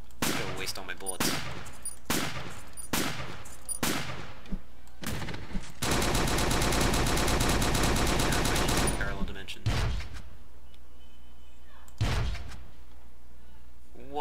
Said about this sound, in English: I'm gonna waste all my bullets.